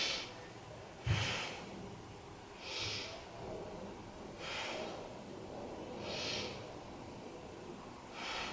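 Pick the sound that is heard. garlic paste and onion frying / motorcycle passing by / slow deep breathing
slow deep breathing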